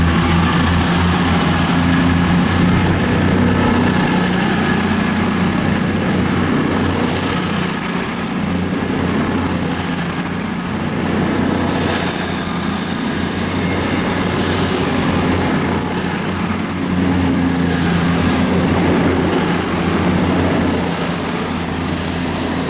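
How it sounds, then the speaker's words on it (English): The 11:37 Virgin train service to Shrewsbury passes through Watford Junction on the West Coast Main Line, a continuous loud rumble with a high whine, steady for over twenty seconds as it runs close by. "now it's the 11:37 Virgin train service to Shrewsbury"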